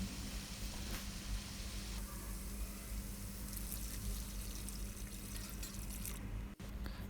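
Water pouring into a pan of frying fish for gravy in a steady stream, a continuous liquid rush that changes tone partway through.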